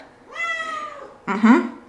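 A pet cat gives two loud, close meows just after being picked up, a long drawn-out cry followed by a shorter, sharper one, with no talking.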